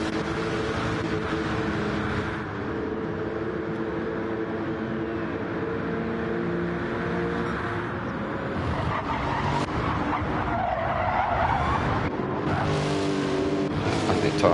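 Race car tyres squealing during a circuit race, long high screeches layered over the roar of several engines, loud and continuous, swelling in waves as cars corner.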